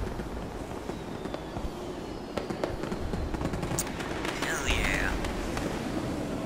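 Fireworks bursting over the Fortnite Showtime concert event: a dense, continuous crackle of many sharp pops and bangs layered over a steady low rumble, with a few louder cracks and a whistling streak standing out near the end.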